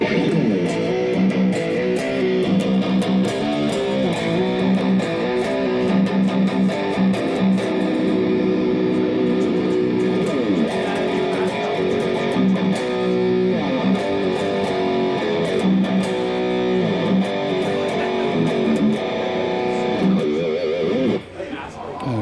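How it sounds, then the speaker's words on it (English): A heavily overdriven electric guitar plays a chugging rhythm part through a Mesa Boogie Dual Rectifier amp and matching cabinet, loud and saturated, with sustained distorted chords throughout. "the guitar into the overdrive as set into a Mesa Boogie dual rectifier"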